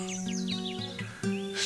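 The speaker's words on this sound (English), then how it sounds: "Listen to those birds singing in the treetops." Short burst of treetop birdsong, several quick chirping notes in succession over a sustained low tonal hum, clear and fairly close, with no voices.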